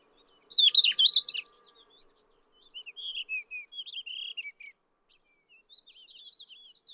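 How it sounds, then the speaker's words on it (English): Thin, high warbling phrases from subalpine warblers and thekla larks in bursts over quiet background: one busy trill first, then several shorter chirping phrases, moderately distant. "The birdsong of subalpine warblers and thekla larks can be heard all around."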